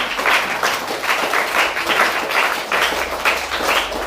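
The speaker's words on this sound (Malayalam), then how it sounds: "നിങ്ങളല്ലേ എല്ലാവരും ഒന്ന് കൈയടിച്ച് നേരത്തെ പറഞ്ഞത്." Children clapping together at a school reading event, a dense burst of applause with a faintly pulsing rhythm that keeps up steadily throughout at close range.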